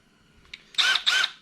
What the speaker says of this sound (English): Maybe use the impact driver